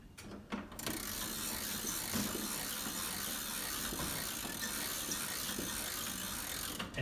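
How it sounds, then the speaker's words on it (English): A crank winds the weight up inside a tall case clock at the Campbell House Museum, giving a steady, fast ratcheting clatter that runs without a break after a few brief opening clicks. "as we wind it up, you can see the crank pulls up the weight into the clock"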